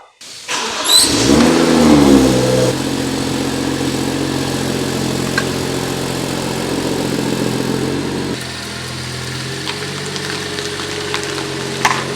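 A BMW M235i (F22) with a ZF transmission starts up with a quick crank and rising rev, then settles into a steady, loud idle close by, with a small drop in pitch later.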